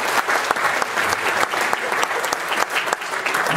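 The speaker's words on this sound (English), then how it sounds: "A round of applause for those folks." A crowd at a town hall in Bangor's Hammond Street Congregational Church applauds loudly and continuously, a thick wash of clapping hands with a few sharper claps standing out.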